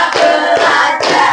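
A classroom group of students clapping hands in unison, three loud, sharp claps evenly spaced in a quick rhythmic pattern, close and clear.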